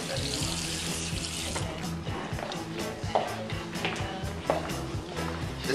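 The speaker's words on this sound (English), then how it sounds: "it's really important to rinse with cold water" Cold water runs steadily from a bathroom tap into a sink as a face is rinsed after shaving, a continuous close hiss broken by small splashes and hand movements.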